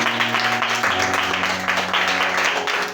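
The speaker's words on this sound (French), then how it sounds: "Acclamons très fort." A church congregation at a Sunday school gathering breaks into applause, a dense, loud, continuous wash of clapping from many hands that stays even throughout.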